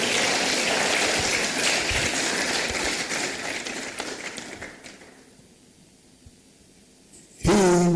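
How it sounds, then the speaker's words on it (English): An audience at a college lecture applauds the guest speaker, Professor Charles Adetunji, in a dense wash of clapping that gradually fades out, followed by a short quiet gap and then a sudden loud burst of sound. "we must give our guest speaker, Professor Charles Adetunji, another round of applause"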